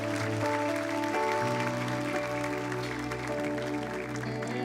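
A church congregation applauds to celebrate the church's ninth anniversary, a continuous wash of clapping blended with sustained music or organ tones, the clapping fairly even and partly masked by the music.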